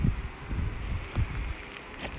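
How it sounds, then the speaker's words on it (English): Strong wind buffets a drone's microphone high on Grand Mesa at sunrise, making a close, uneven low rumble with gusty surges and no voices. "Oh, there's the high wind."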